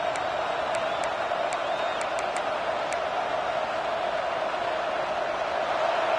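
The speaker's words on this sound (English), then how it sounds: "This crowd, full throat, spreading the eardrums and letting them know it's going to be a long day." A large stadium crowd at a football game roars in a steady, sustained wash of cheering, with a few faint whistles cutting through near the start.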